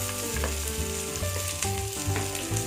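Shallots sautéing in hot oil for a spinach kootu, a loud, continuous close sizzle and crackle with scraping stir strokes running throughout.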